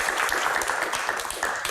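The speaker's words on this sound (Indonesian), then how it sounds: "Tepuk tangan buat teman-teman" Studio audience applauding students, a dense steady wash of clapping filling the room throughout, fairly loud and close, with no talk over it.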